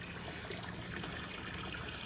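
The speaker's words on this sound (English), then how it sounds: "That's draining out of that anchor storage locker." Water drains steadily from the anchor storage locker drain of a 2007 Rinker 350 Express Cruiser boat moored on a lake, a continuous close trickle and splash with no pauses.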